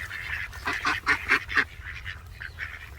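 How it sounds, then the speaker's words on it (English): Ducks near their nest give a run of loud, nasal quacks in a quick rhythmic burst, then softer calls trail off, heard close with no talking. "I know I've got some ducks nesting somewhere"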